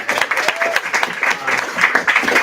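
Audience in a student common-room meeting breaks into steady, dense applause, a continuous patter of many hands clapping at close range with some voices mixed in throughout.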